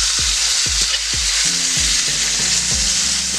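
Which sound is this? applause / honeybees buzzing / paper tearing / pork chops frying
pork chops frying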